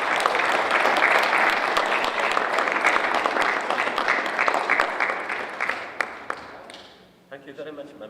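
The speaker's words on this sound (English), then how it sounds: "a round of applause for the laureates." Audience at an award ceremony for palaeontology laureates claps in a dense, sustained round of applause that thins out and fades near the end, with a voice speaking briefly as it dies down.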